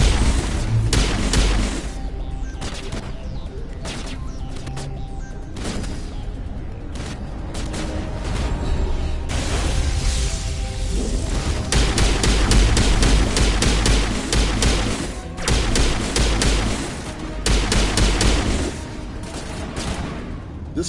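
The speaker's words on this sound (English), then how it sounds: "This pistol's got a nice thunk to it. It's like thunk, thunk, thunk." A heavy pistol fires in Mass Effect Legendary Edition on Noveria, loud thumping shots repeated in irregular runs amid booming combat noise, with no talking.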